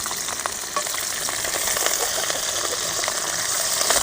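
Chana dal, urad dal, rice and shallots sauté in oil in a pan for gongura rice, producing a dense, steady, close-up sizzle that continues throughout with no talking.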